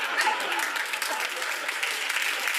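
Warm, sustained applause from a TV panel show studio audience, steady and fairly loud across the whole stretch with no distinct voices.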